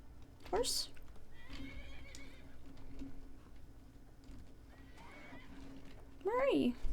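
A horse whinnies loudly twice in Skyrim, at the start and near the end, over a low steady game hum with soft background sounds between.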